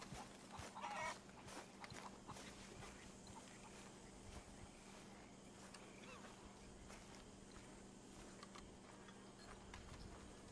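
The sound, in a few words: chicken clucking in video game Red Dead Redemption 2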